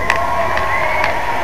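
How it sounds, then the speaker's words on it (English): A large arena concert crowd at a 1997 show cheers and whoops loudly and steadily, a dense roar of voices with a few sharper shouts rising above it. "You can applaud yourself, you should."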